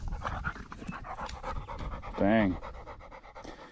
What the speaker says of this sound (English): Sorry about my dog breathing so heavy.